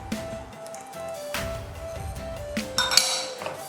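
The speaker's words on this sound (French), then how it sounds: "Et on va venir mélanger le tout, bien évidemment, encore une fois." Madeleine batter with melted butter and oil is mixed in a bowl, sparse clinks and scrapes of a utensil against the bowl ringing close and clear, with a sharper cluster of knocks toward the end.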